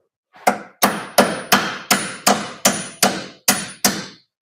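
A little hammer knocking a component into place while putting an MR6 suspension back together: ten crisp, close strikes in a steady rhythm, each with a brief metallic ring, heard alone.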